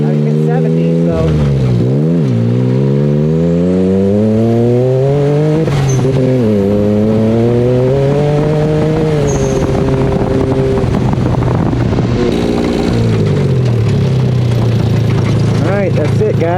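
A car with a new transmission and rear end accelerates hard in third gear, the engine note climbing steadily in long rising sweeps with brief dips at shifts or lifts, loud and close throughout.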